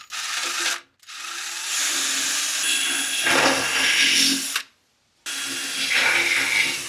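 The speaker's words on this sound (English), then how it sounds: "I'm finding that just going slow and steady to drill into this rubber is working the best." A power drill slowly bores into the rubber flap of a snowblower, giving a steady grinding whir that runs on and stops twice briefly between bursts, close and fairly loud with no talking.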